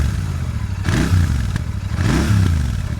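A Royal Enfield Continental GT 650 with its stock exhaust idles and is blipped twice, giving a close, deep rumble that rises and falls with each rev.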